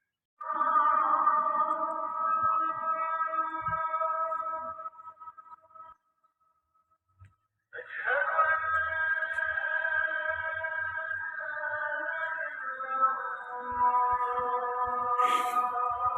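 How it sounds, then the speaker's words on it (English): A man's sung call to prayer in Al Ain, UAE, heard as a sustained, wavering melodic voice at moderate distance, with a short pause midway and faint background noise. "I hope you can hear the man singing and calling to prayer"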